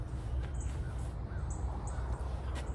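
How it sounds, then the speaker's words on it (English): Birds call on a morning at an urban campsite, crow-like caws sounding in short bursts above steady low background rumble and hiss, moderately distant and fairly faint. "you hear the birds this morning"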